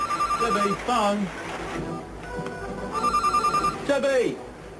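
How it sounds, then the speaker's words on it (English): A telephone bell rings in bursts inside a 1980s office scene from a TV advert, repeated trilling rings partly under overlapping voices that talk throughout, moderately loud and near. "Debbie, phone."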